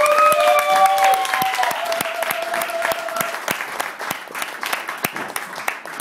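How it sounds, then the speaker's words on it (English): An audience at a fundraiser show bursts into loud applause and cheering that gradually thins into scattered clapping, with a voice calling out over it. "Ladies and gentlemen, make some noise for Merely Player."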